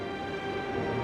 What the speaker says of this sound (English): I suspect there may be a lot of trains.